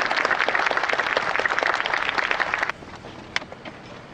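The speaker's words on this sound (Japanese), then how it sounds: "今一度ジョン・マローニさんに拍手をお願いいたします。" Audience applause after a speech at a Planes of Fame event with an A6M5 Zero, a dense steady clapping that drops off suddenly near the end, leaving a few scattered claps.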